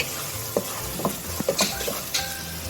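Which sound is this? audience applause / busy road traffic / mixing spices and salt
mixing spices and salt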